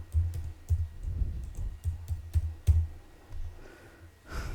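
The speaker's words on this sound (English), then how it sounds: "I am typing my password." Keys on a computer keyboard are struck one after another as a password goes in, giving about a dozen close, sharp clicks in an uneven rhythm with short pauses, ending in a faint breath.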